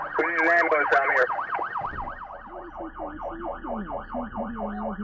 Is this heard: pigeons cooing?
no